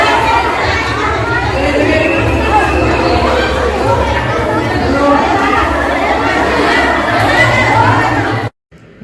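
A dense crowd of devotees at a Lord Bholenath temple, a continuous loud hubbub of overlapping voices and children, ending in abrupt silence near the end.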